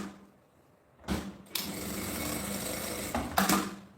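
A sewing machine stitches along the edge of a fabric strap for a pochete bag, with a short burst of stitching followed by a longer steady run of close, loud machine whirring.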